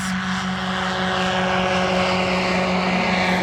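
Light airplane on a solo flight, a steady propeller engine drone with a constant tonal hum, close and continuous without pauses.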